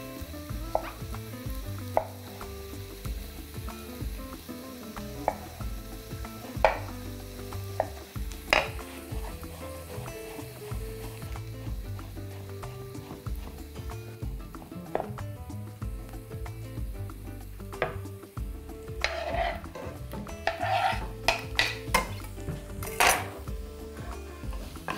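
Finely chopped mushroom stems fried in a pan and stirred, with a soft sizzle beneath frequent clanks and scrapes of a utensil against the cookware, a burst of sharper clatter near the end, no talk.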